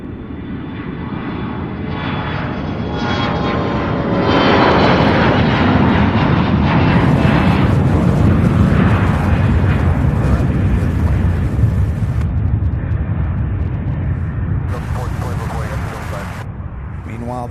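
A CRJ 900 jet takes off from runway 17 left at Louisville International Airport, its engines building into a loud, sustained roar that rises and holds, with a person talking over the noise.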